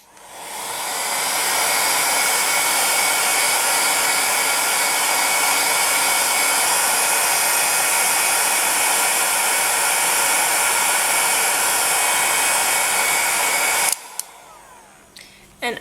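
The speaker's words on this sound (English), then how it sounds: "I like to take my heat gun and put it on its lowest heat setting and just gently blow to encourage it to dry" A heat gun on its lowest setting blows a steady, loud hissing rush of air while drying polymer clay, running continuously for about fourteen seconds before cutting off and leaving a few small clicks.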